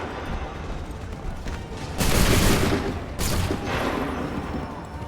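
A volley of musket fire rings out in Assassin's Creed III, two loud crackling bursts in quick succession that roll into a rumbling echo over battlefield ambience, with no talking.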